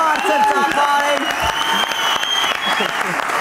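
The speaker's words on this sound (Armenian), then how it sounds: "բարձր, շատ բարձր ծափարեն" An audience at a sport-club show applauds steadily, dense clapping filling the room while a voice speaks over it.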